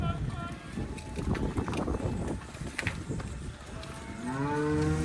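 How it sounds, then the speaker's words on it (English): Montbéliard cows on a farm moo, with a long, loud, close moo rising near the end over wind buffeting the microphone and general farmyard noise. "Nice, pretty Montbéliard cows."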